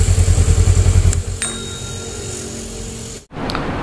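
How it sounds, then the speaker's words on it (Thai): A 2019 Honda Rebel 500 motorcycle idles with a rapid loud engine throb up close, the pulsing fades as it is switched off, and a steady hiss follows with a brief dropout. "ขออนุญาตดับเครื่องยนต์นะครับ"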